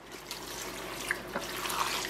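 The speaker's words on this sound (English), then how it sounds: "Now we're adding 4 cups or an entire carton of chicken broth" Chicken broth poured from a carton into a soup pot of rinsed beans, a soft, steady liquid splash and trickle lasting a couple of seconds, fairly quiet with no talk.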